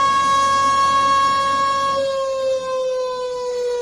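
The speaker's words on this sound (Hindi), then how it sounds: "पाकिस्तान ने भारत के हमले के डर से कई शहरों में जंगी सायरन भी लगा दिया है।" A wartime warning siren of the kind installed in Pakistani cities such as Peshawar and Abbottabad wails as a loud, steady, sustained tone that holds its pitch throughout, with a low background rumble that drops away midway.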